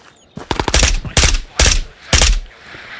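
Gunfire in the video game Ghosts of Tabor: a quick volley of rapid shots, then three heavier, evenly spaced blasts, loud and close.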